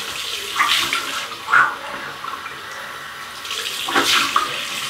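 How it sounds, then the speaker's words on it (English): Cold tap water runs steadily into a sink for a rinse during a wet shave with a Canadian Maximo Gomez Cuba shaving soap, rising in a few louder gushes near and alone, with no talk. "Cold water rinse."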